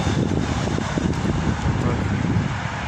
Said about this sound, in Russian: Вот опять ветер поднялся.